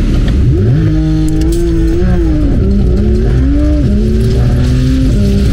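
A Porsche 992 GT3 engine roars loudly during a launch-control start, the revs climbing in rising sweeps with quick drops at each gear shift, heard up close and continuous throughout.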